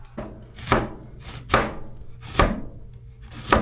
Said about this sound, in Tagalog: Tapos hiwala tayo ng sibuyas.